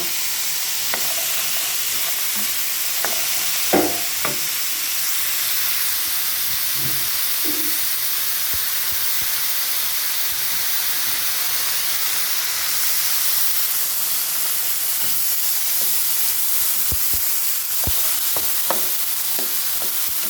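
Minced pork and long beans stir-fry in a hot pan for Thai basil pork, a steady loud sizzle and hiss with occasional scraping, clattering strokes of a spatula, and no talking.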